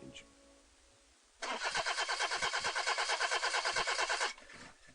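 A car engine cranks but fails to start, a loud rhythmic chugging that repeats rapidly for about three seconds and then cuts off, with a voice speaking over parts of it.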